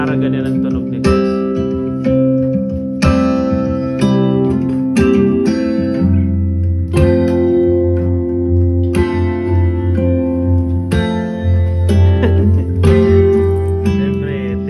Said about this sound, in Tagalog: Pag gitara, ganyan ang tunog niya,